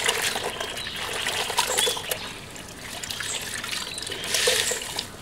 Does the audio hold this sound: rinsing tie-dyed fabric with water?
yes